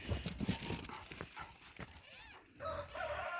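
Dogs playing roughly, growling, snarling and barking in a rough, scuffling tussle, bursts of noisy yaps overlapping at close range.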